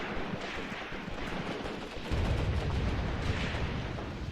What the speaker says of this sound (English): maybe it's my light mortars